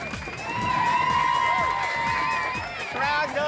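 A crowd cheers and whoops at an underwater mermaid show in a restaurant, the loud excited voices swelling and holding steady throughout, with children's shouts mixed in.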